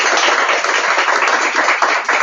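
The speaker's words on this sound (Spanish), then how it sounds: "a ellas quiero un aplauso general" Listeners at a book presentation give a round of applause, a short, close burst of many hands clapping unevenly, loud and alone with no talk over it.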